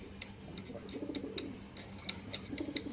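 Pet pigeons of a Kanthi breed coo softly in low, rolling phrases, mixed with sharp, faint clicking ticks, quiet and close with no talking.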